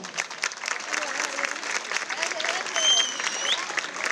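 Applause rings out at a town festival proclamation event, clapping mixed with overlapping voices and crowd chatter, fairly close and lively throughout.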